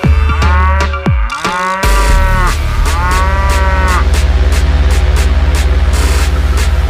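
Electronic moo of a toy dairy cow, drawn-out mooing calls in the first seconds over a steady, looping melody of synthetic toy music that continues to the end.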